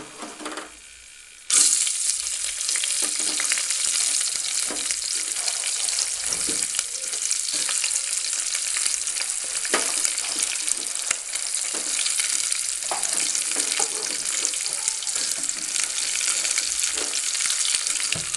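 Onion hits a hot pan after a brief quiet moment and frying takes over, a loud, steady sizzle with occasional stirring scrapes that continues to the end.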